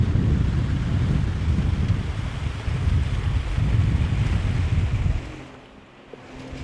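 Steady wind buffets a fishing boat on open water, a loud broadband rush with gusts that swell and ease before dropping away near the end.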